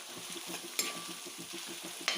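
Coconut pieces, curry leaves and onion sizzle in a pan while a spoon stirs them in a quick, regular rhythm, with a couple of sharper scrapes against the metal, close up.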